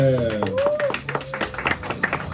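Audience clapping rattles through a live improvised-verse contest, irregular hand claps following an announcer's voice at the start and continuing moderately loud to the end.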